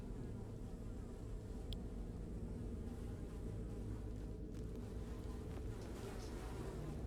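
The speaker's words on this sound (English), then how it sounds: "Despite the buzzing flies, you hear the faintest sound of rushing water" Flies buzz in a black-and-white dungeon crawler game, The Secret of Weepstone, a constant low droning hum with no talking over it.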